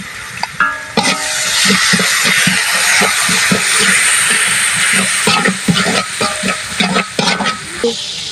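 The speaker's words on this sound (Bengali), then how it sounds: "আমি অল্প করে একটু শুকনো লঙ্কা গুঁড়ো দিয়ে দিলাম এটা আমি ভালোভাবে ভেজে নেব" Spices with dry chili powder, coriander, turmeric and salt fry in a pan for bhuna khichuri, a loud, close continuous sizzle with repeated scraping stirs of a spatula, no talk.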